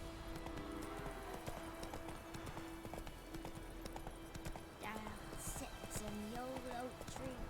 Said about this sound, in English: Canter.